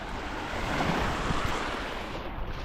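Waves washing onto a beach in Croatia, a steady broad roar of surf with some wind, fairly loud and constant with no voices.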